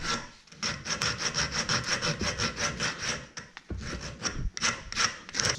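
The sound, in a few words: sanding a wooden musky lure body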